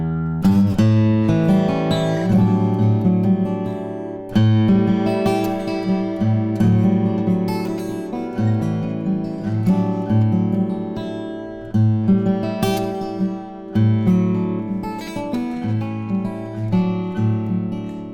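A Martin 000 Eric Clapton acoustic guitar strummed and picked, its chords ringing warmly and sustaining between fresh strums, close and clear with no talking over it.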